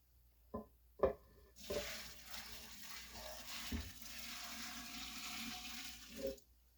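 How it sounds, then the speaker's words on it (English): Sweet pickle brine pours steadily into a container of pickles for about five seconds, a continuous splashing gush that starts after a couple of light knocks and ends with a brief clunk. "we're going to pour it into these pickles"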